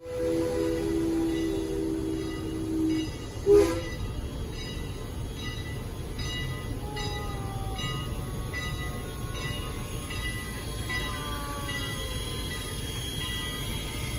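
A Lionel O gauge Strasburg 89 model steam locomotive runs steadily on its track with a continuous rolling rumble, a brief squeal or whistle-like tone early on and a sharp click partway through.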